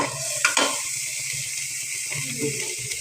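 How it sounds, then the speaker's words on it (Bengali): Onion paste, garlic-cumin paste, turmeric, spice and chili powders stir in hot oil in a home kitchen pan, giving a steady close sizzling hiss broken by a couple of quick spoon scrapes early on. "একটু তেল দিয়ে দিলাম, দিয়ে ভালোভাবে নেড়ে নিলাম।"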